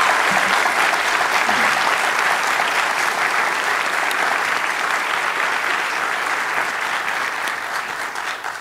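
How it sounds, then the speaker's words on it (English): Sustained audience applause at the close of a public debate on the resurrection of Jesus, a dense, loud wash of many hands clapping that holds steady for several seconds before slowly tapering off. "And one final round of applause for our debaters for the job they did tonight."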